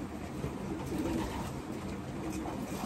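A Bluebird White Flight racing pigeon with ring number 7795 coos softly and steadily, its low murmuring calls heard close against a constant background hiss.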